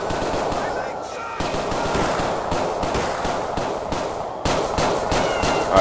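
Machine gun fire in the video game GTA IV, a dense continuous rattle of rapid shots that runs steadily, loud and unbroken, with a voice speaking over it.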